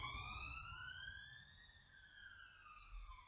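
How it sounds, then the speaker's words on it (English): A wailing siren rises and falls in pitch as it passes outside, heard from indoors in a bedroom, moderately distant, fading slightly toward the end. "And now here comes the siren."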